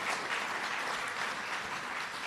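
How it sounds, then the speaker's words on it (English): An audience applauds at a senior citizens week launch event, with continuous full-room clapping that stays even and fairly loud for the whole stretch and has no talking over it. "A round of applause for her one more time"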